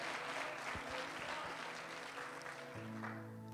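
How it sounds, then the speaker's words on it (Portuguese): A church congregation applauds during an honour service, sustained clapping heard faintly and somewhat distant, with a low humming tone underneath. "Vocês podem aplaudir a Deus pela vida do pastor Neto"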